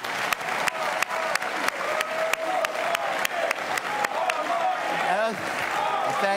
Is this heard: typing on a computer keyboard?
no